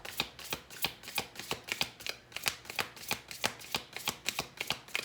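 Tarot cards are shuffled by hand in a steady run of quick, crisp riffling bursts, close and clear, with no voices.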